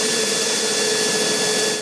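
A power drill whines steadily and loudly close by, drilling out the rivets that hold an old spill tank in the engine bay of an MGB GT, running almost unbroken for the whole stretch.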